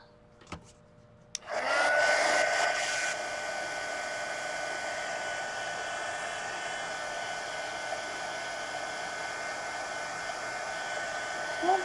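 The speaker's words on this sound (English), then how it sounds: "All right, let's dry this." A hair dryer blows steadily on a watercolor painting, switching on after a brief quiet moment with a loud initial burst that settles into a constant whir for the rest of the clip.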